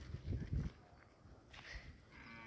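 A calf moos in a few low, faint calls, with soft movement sounds around it in a quiet outdoor setting.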